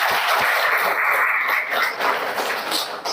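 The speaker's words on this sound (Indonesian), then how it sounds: "tepuk tangan semuanya" Classroom applause in a religious education class, many hands clapping steadily and fairly close throughout, dense and continuous with a slight dip near the end.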